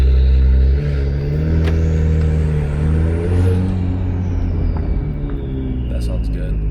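An Acura NSX engine revs as the car pulls away, a strong low rumble with rising and falling engine tones that climb through the gears, loud and close throughout.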